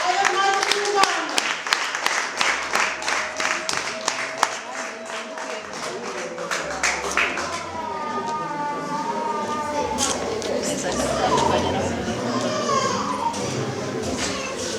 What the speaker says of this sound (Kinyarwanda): Ayo mashyi rwose, ayo mashyi y'Imana.